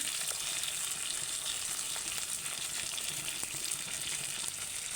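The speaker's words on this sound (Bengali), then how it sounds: "এবার মাছগুলো দিয়ে দেব মশলার উপরে ভালো করে মাছগুলো মানে নেড়ে নেব" Fish pieces fry in spice masala in a pan, giving a steady, close, continuous sizzle and crackle with faint stirring scrapes throughout and no voices.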